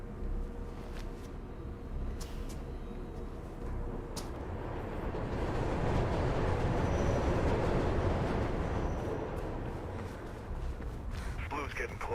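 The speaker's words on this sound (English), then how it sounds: "It should be a train." A train rumbles past in the video game Mirror's Edge, a sustained low roar that swells toward the middle and then eases, with faint clanks and background game sounds around it.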